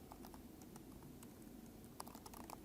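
Light, fast typing on a computer keyboard, a quiet patter of individual key clicks with a brief louder flurry near the end, heard alone without talk.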